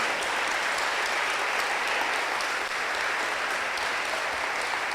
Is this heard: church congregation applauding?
yes